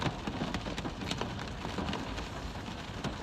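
Steady rain falls outside during an afternoon livestream, a continuous broadband patter and hiss with no distinct drops standing out, moderately loud and even throughout, with no voice heard.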